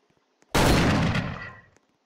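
A single loud, close burst of video game gunfire, about a second long, booms and decays quickly, with no voices over it.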